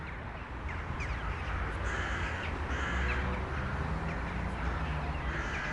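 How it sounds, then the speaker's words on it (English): A large flock of crows cawing on the outskirts of Dushanbe, Tajikistan, a dense, continuous chorus of harsh calls over steady outdoor background noise. "Whole lot of birds."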